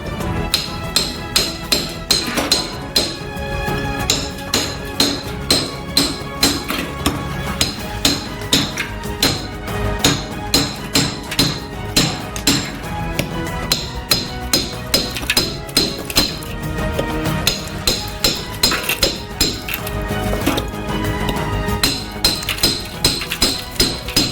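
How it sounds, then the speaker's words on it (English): Repeated hammer and axe blows split large blocks of ice into smaller pieces, a steady run of loud, close, sharp cracks and thuds with icy clinks, keeping up a fairly even rhythm throughout. "Using an axe and hammer, we split these blocks into smaller pieces."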